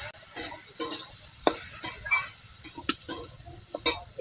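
Shredded cabbage is stirred and fried in a pan, with a soft sizzle under repeated sharp scraping strokes of a spatula at an irregular pace, close by.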